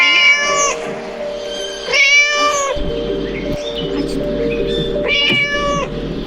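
Two loud, drawn-out cat meows about three seconds apart, each with a rising then falling pitch, over a steady electronic hum and low background noise.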